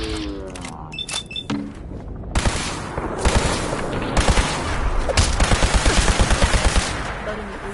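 Gunfire in Fallout 4: after a few sharp single shots, a sustained fusillade of rapid, evenly spaced bursts rattles close and loud for several seconds with no talk.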